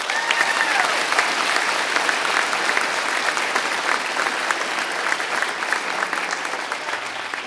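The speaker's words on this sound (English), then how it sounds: "Round of applause for firefighter Jakowski." Dense, sustained applause from a seated crowd at a firefighter graduation ceremony, many hands clapping evenly for the full length and fading slightly at the end.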